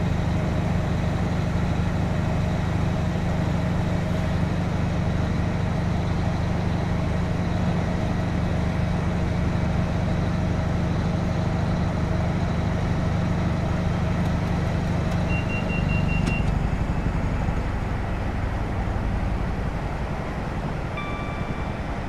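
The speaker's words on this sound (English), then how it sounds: "I'm going to just idle the power and allow the train to coast" HST train in Train Simulator 2017, Paxman VP185 engines, coasting with power idled near Bedford to London St Pancras: a steady low diesel rumble and rolling drone throughout, with a brief higher tone late on.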